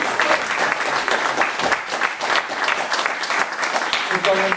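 An audience applauds after a woman's first speech at a reunion event, with dense, steady clapping from many hands that stays full and close throughout, and voices murmuring beneath it.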